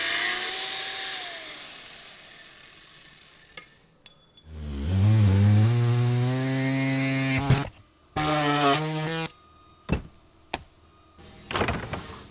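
A power tool cuts away a metal tab on a Hellcat chassis with a 2JZ engine swap, its motor whining in several loud bursts with shifting pitch, separated by short pauses and clanks.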